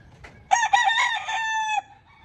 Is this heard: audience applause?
no